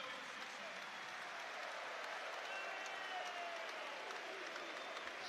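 Stadium crowd at a Manchester United vs Brighton football match applauding a substituted player, a steady wash of clapping from thousands of hands, distant and even, continuing without a break.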